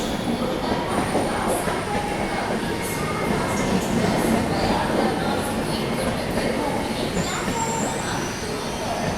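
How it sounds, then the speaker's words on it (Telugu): Train hauled by a Tughlakabad-based WAP7 electric locomotive, the Karnataka Sampark Kranti, rumbling past at a station with a steady, loud, continuous roar of rolling wagons, faint wheel squeal and station voices underneath. "తుగ్లకాబాద్ WAP7 లీడ్ చేస్తుంది కర్ణాటక సంపర్క్ క్రాంతి"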